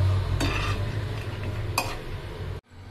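Cashews roasting in a pan with salt, chili powder and coriander powder, a steady sizzle with scraping stir strokes and a couple of sharp utensil clinks, close and loud, cutting off abruptly near the end.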